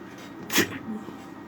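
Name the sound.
sneeze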